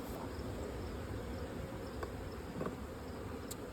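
Honeybees hum around an open hive in a dense, steady buzz that holds evenly throughout, close by, with a few faint clicks on top.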